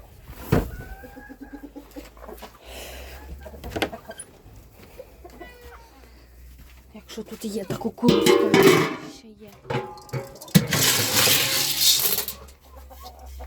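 Chickens cluck and murmur close by while a person talks to them, with rustling and scattering noises partway through.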